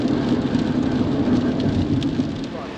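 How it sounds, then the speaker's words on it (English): Rain falling steadily during a major storm, a dense continuous patter on surfaces that holds at an even level throughout, with no voices. "Andrew, look, it's raining."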